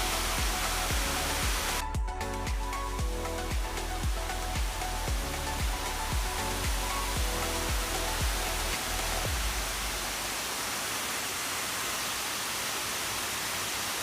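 Falling Waters waterfall in Chipley, Washington County, Florida, a steady broadband roar of cascading water heard up close, with a rhythmic mechanical-sounding pulse overlapping for the first nine seconds before the roar continues alone.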